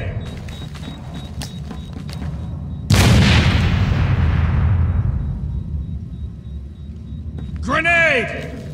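In Batman: Arkham City a grenade goes off with a sharp, loud blast that decays over several seconds beneath ongoing ambient rumble, while henchmen voices shout before and after.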